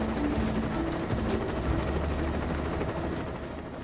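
Inside a helicopter cabin in flight over open sea, a loud, constant rotor and engine drone fills the space without a break, with no one speaking.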